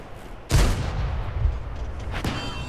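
Tank cannon shots and shell impacts in World of Tanks with a T-10 heavy tank, two loud booming blasts about two seconds apart over a rumbling background.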